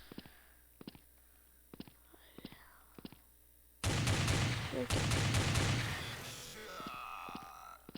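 Gunfire in the shooter video game Blood Strike: a loud burst of rapid, repeated shots that starts abruptly midway and runs for a few seconds, after quieter soft taps and a whispering voice.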